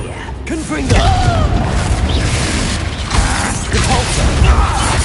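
Confringo spell cast in the Hogwarts Legacy video game, a sharp burst followed by crackling, creaking mechanical noise and a dull boom amid busy combat sound.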